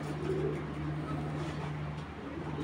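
A large racing pigeon coos softly and continuously for a couple of seconds at a farm. It holds a low, steady hum under faint background noise, with nobody speaking.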